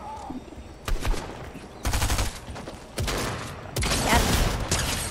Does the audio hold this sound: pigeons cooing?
no